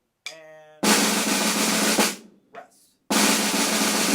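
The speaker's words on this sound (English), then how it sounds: "Now a 17-stroke roll is 8 16th notes feeling underneath the buzz." A snare drum plays a sustained 17-stroke buzz roll in a symphonic band percussion setting, with a brief pitched tone before it. Loud, dense broadband rolls stop briefly and resume, close and alone with no talk.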